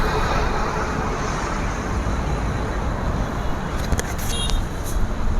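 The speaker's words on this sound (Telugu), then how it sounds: "కార్ వస్తుంది, వెహికల్ వస్తుంది." A car comes along a highway at night, a steady broad roadway rumble building throughout, loud and continuous, with a brief higher whine near the end as it draws close.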